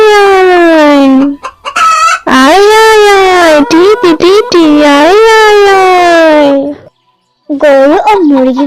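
Cartoon farmyard chickens cluck and squawk in loud, drawn-out, rising and falling calls that follow one another with brief gaps, close and dominating, with a short silence near the end before the calls resume.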